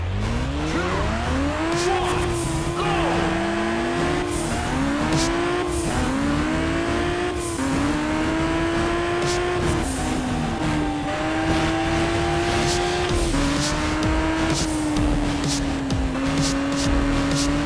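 Race cars circuit racing in Juiced 2 rev through repeated gear shifts with rising engine whines, accompanied by frequent tire squeals and skids, loud and continuous.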